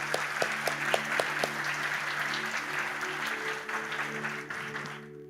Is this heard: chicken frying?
no